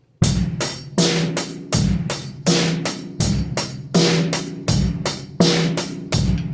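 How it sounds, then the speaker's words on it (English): A basic eighth-note drum beat on a kit, snare landing on beats two and four and bass drum on one and three, with steady hi-hat eighths; played alone, loud and close, repeating evenly. "a simple, eighth note beat playing 2 and 4 on snare,"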